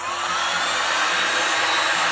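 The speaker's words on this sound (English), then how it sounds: "I'm going to take my heat gun" A heat gun blows a steady, loud, broadband roar close to the microphone while setting stamped ink on fabric for a bag, with no change in level throughout.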